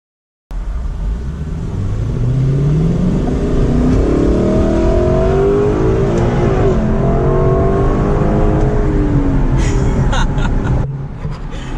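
A Lexus LC500's engine revs hard and loud as the car accelerates up through the gears on the road, its pitch climbing and dropping with each upshift, continuous for about eleven seconds before the revs ease.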